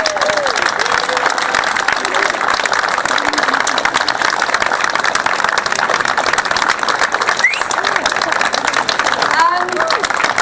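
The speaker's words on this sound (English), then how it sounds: "Another huge round of applause for our choir." A concert audience gives a choir a long, steady round of applause: dense, continuous clapping with a few voices mixed in, running at full level throughout.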